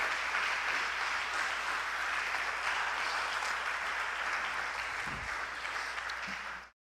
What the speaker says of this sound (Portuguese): Aplauda o nome do Senhor, sim.